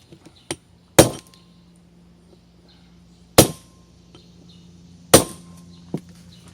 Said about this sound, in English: I've been hitting it with this brass driver, so I'm going to continue doing that right now.